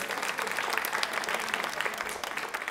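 Dense, steady applause fills a hall during a women's association quiz show on the Swachh Bharat campaign, a broad continuous patter of many hands at moderate loudness.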